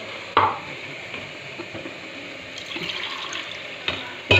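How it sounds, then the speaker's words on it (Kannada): Water splashes briefly into a mixer-grinder jar between a few sharp clinks of handling while making pulao, with no voices. "ಈ ಜಾರಿಗೆನ ಸ್ವಲ್ಪ ನೀರು ಹಾಕ್ಕೊಂಡು"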